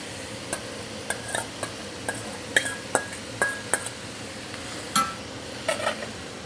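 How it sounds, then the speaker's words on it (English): Onions and peppers sautéing in a pot for a chicken sausage gumbo, heard as a faint steady sizzle beneath scattered sharp clinks and taps of a utensil against the pot, spaced irregularly through the clip with no talking. "I'm just going to saute this off so I can show you guys what this looks like"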